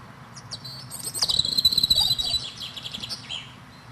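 Small birds, including tits, chirp and tweet in a lively cluster of rapid, high twittering calls, building to a dense burst in the middle before easing off, with a soft outdoor hiss behind.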